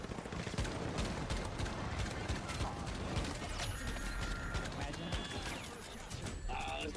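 Rapid gunfire from akimbo .50 pistols in a first-person shooter video game, dense and continuous throughout with overlapping shots and mechanical clatter, under busy game noise.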